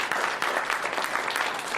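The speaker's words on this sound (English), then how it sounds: "you just clapped to that" An audience at a banquet claps in a dense, continuous burst of applause, close and fairly loud, with no talking over it.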